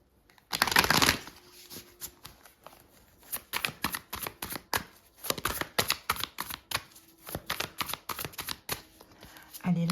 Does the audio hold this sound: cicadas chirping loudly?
no